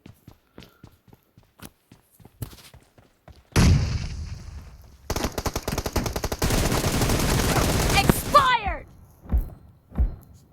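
Gunfire in the mobile battle-royale game PUBG Mobile: scattered footsteps and thuds give way to loud, rapid automatic bursts and a sustained volley, then a few heavy booms trail off.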